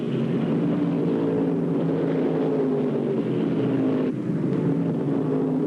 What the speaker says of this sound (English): on the front straight, he screams the silver bullet underneath Gary Albritton to hit the #1 jackpot slot.